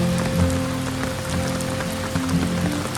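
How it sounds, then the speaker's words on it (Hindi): Heavy rain pours down outdoors near Gardens by the Bay in Singapore, a dense steady patter of drops on surfaces, close and continuous throughout. "भाई खतरनाक वाली बारिश स्टार्ट हो गई"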